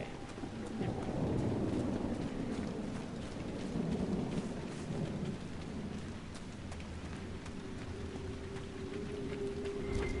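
Thunderstorm ambience near a dam in the video game Dragon Age: Inquisition: steady rain hiss over low rolling thunder rumbles, fairly quiet and continuous, without talk.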